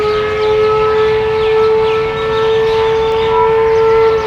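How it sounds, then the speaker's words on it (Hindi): A loud, sustained emergency siren wails steadily with a strong constant tone, filling the whole stretch without any speech. "फौरी तौर पर कलंदर विंग में इमरजेंसी सायरन बजाया जाने लगा।"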